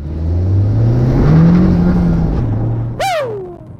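A 2022 Honda Civic Type R in sport mode accelerates hard, its engine note climbing loudly and steadily through the revs, dipping briefly at a gear change and then pulling again, close up with no talking.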